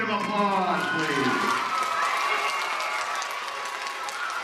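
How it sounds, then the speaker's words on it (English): A school audience claps after a blues performance in Grafton, Wisconsin, with a musical tone ringing out at the start, then dense, lively applause mixed with crowd noise and a voice. "Can you give yourselves a big round of applause,"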